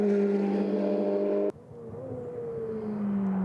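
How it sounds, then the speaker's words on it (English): Ferrari Challenge race cars at the Budapest circuit, engines loud and sustained before a sharp drop as the cars brake into a turn, then the engine note climbs again. "see the braking there into the turn from Thomas Gosner"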